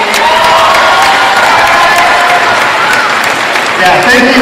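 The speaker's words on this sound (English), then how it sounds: "how about a big round of applause for Joe and all of his staff at Table Rock Sports?" Crowd at a high school basketball game between North Medford and South Medford applauding and cheering, a loud, dense wash of clapping and voices filling the whole stretch without letup.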